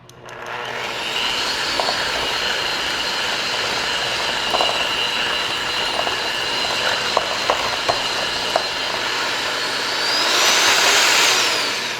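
A steady, loud electric mixer whirs continuously while mixing lemon cheesecake filling, with a constant motor drone, occasional faint clicks of the beaters against the bowl and a brief rise in pitch near the end, with no talking.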